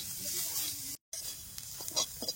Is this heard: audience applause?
no